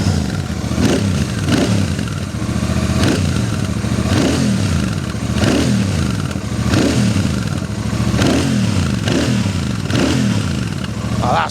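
A 2023 Royal Enfield Super Meteor 650 with twin exhausts revs repeatedly, a deep throaty rumble rising and falling in regular bursts about every second and a half, loud and close with no talking.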